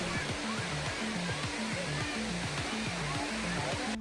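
Water pours down a waterfall in the Ananthagiri hills where people bathe, a constant broad roar heard close by, with faint voices and a repeating tonal pattern running underneath.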